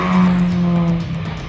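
A supercharged Honda CR-Z Mugen hybrid with a 1.5 litre engine and electric motor drones loudly and steadily close by, then its tone fades slightly toward the end.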